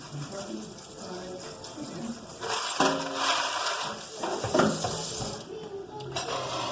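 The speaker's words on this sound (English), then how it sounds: "Rinse this off." Tumbled items from wet tumbling without stainless steel media being rinsed under a running tap in a sifter, a steady rush of water with clinks and rattles rising midway, close and fairly loud.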